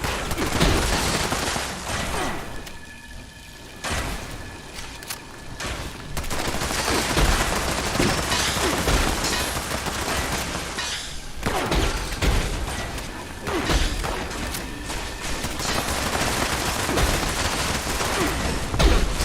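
Dense, sustained gunfire from the video game Fallout 76, rapid overlapping shots and bursts rolling on for the whole stretch with booming impacts, loud and continuous with no talk over it.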